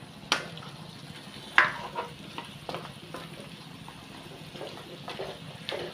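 A spoon stirs a Filipino sari vegetable dish in a sizzling pan, giving steady frying sizzle with several sharp scraping clinks and knocks spread across the stretch.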